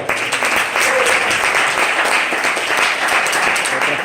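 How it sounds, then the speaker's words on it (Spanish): A church congregation breaks into loud, sustained applause for the Lord during a sermon, a thick continuous roar of many hands clapping with no pauses. "Denle un aplauso al Señor"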